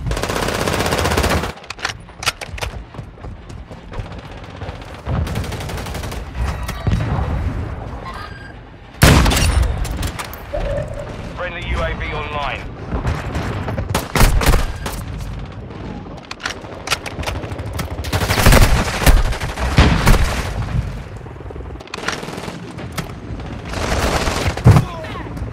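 Gunfire in the mobile shooter Call of Duty Warzone Mobile: bursts of automatic rifle fire, single sharp sniper shots and heavy booms, loud and close with an uneven rhythm over game noise and brief in-game voice callouts.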